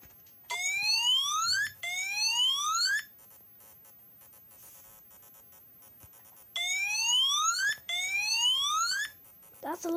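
Fire alarm sounding during a test drill, loud rising electronic whoops repeated in two pairs with a silent gap between them, very close.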